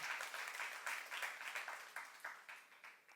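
Soft, scattered clapping from a church youth congregation during a sermon, fairly quiet and distant, pulsing in uneven bursts for a few seconds.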